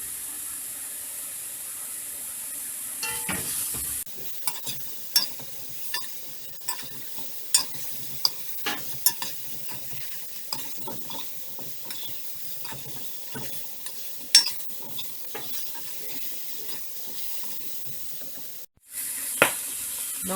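Corn and pigtails in a pot for a spicy Trinidad curry corn, a faint steady sizzle under scattered scraping and knocking stirs, close and quiet.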